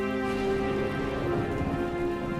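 Heavy cartoon rain pours down steadily, a dense even hiss of falling water with no pauses and no voices over it.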